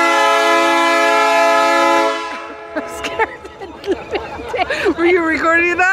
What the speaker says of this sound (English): That was the express train.